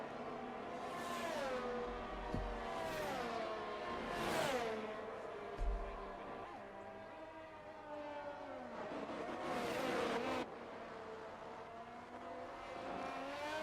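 Racing car engine in a sim racing game at Suzuka, an Alfa Romeo on a timed lap, revving up and down through repeated gear changes, rising and falling pitch with brief tyre noise, moderately loud and steady.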